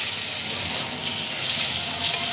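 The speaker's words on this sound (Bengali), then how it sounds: "দিয়ে ভালো করে একটু নেড়ে নেব রসুনের সাথে" Eggplant and garlic frying in a pan, a dense continuous sizzle with stirring, close and fairly loud, with no talking.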